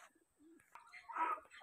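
Fancy pigeons of the Laka Sherazi and feather-footed Mooj Para breeds coo softly nearby, a few low, throaty warbles rising toward the end in a quiet setting.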